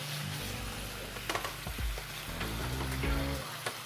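Bulgogi, marinated beef, fries in a hot pan with a loud, steady sizzle up close, joined by scraping and stirring sounds as the meat is moved around.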